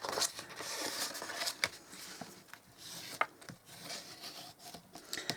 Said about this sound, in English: all we're going to do is burnish these lines, score lines that we've made